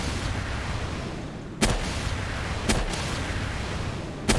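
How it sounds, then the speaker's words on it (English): Grenade launcher fire in the Palworld video game: three sharp, booming blasts spaced about a second apart over a constant dense background rumble, with no talking. "let's just open with a grenade launcher"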